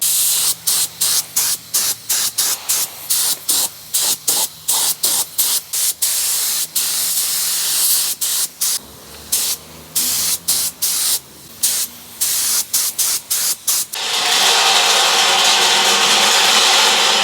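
Loud bursts of spray hissing in quick repeated pulses as a coating is sprayed on a Mitsubishi Evo 8 being rebuilt, then a long continuous spray near the close, with no talking.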